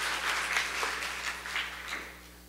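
An audience applauds to welcome a guest speaker at a civic-tech open parliament event, steady clapping of moderate loudness that tapers off near the end.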